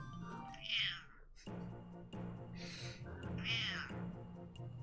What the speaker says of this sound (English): Trying to get that meow from her.